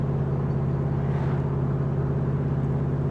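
A Chevy V8 in a 2005 Pilgrim Sumo Cobra Mk3 rumbles steadily and loud at low road speed in fourth gear, a continuous deep droning throb with no breaks.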